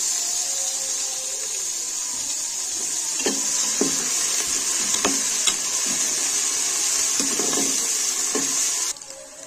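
Fried onions sizzling in a pan as garlic ginger paste is added for mash dal, a steady bright hiss with several soft stirring clatters, close and alone.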